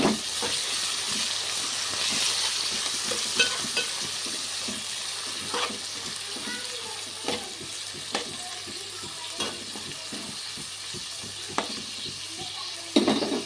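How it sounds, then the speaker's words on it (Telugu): Tomato pieces with green chillies and ginger-garlic paste frying in a pan for egg biryani, giving a continuous loud sizzle and hiss with repeated stirring scrapes and occasional clinks. "టమాటా ఇప్పుడు మగ్గుతుంది"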